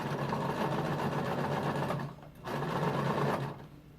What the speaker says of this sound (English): now I'm gonna just keep this flat as I stitch around